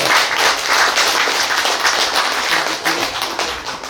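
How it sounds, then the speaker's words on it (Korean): Audience applause rings out at a literary seminar after a lecture, a dense, steady wash of many hands clapping that fills the whole stretch, loud and close, tapering only slightly at the end. "다시 한번 박수 부탁드리도록"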